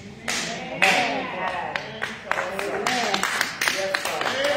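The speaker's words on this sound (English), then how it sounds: "Three claps." A worship congregation at a Sunday service claps in a few sharp, ringing strikes that stand out over busy crowd noise and voices in a reverberant sanctuary.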